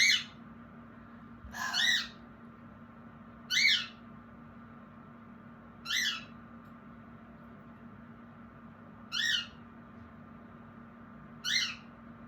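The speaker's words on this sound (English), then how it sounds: "My bird is going crazy." A bird gives loud, high-pitched squawking calls, repeated about every two seconds, close and clear over a low steady hum.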